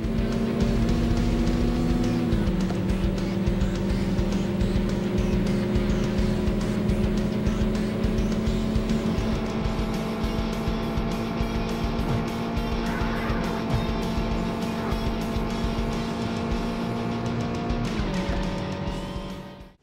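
Nissan race cars in a Sega Saturn racing video game, a steady loud engine drone with shifting pitch, gear changes and brief tire squeals, continuous and close throughout.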